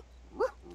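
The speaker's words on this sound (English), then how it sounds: "Henry, what are you barking at?" A single short, soft dog bark or yip, somewhat distant, over a quiet low hum on a family farm.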